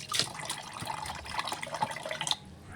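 Running water pours steadily into a bowl or sink to soak frozen salmon head and backbone, a continuous splashing trickle with brief drips, close by and without talk.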